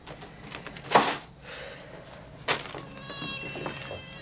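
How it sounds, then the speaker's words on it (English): A real cat meows loudly and close, with two sharp cries about a second and a half apart, followed by quieter drawn-out mewing and some household clatter. "Cats."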